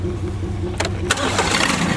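Tractor engine running close by with a steady low rumble, then a rise as it is revved, loud and continuous without talk.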